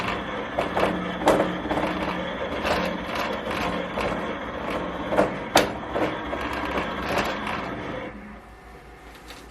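A Melco EMT16X embroidery machine traces a design outline, giving a run of rapid mechanical whirring and ticking with sharp periodic clicks, close and fairly loud, easing off near the end.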